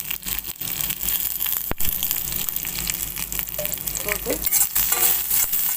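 Chunks of elephant yam sizzle and crackle in a pan with turmeric and asafoetida, steady loud frying with scraping stir sounds throughout while someone speaks briefly over it.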